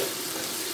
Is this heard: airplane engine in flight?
no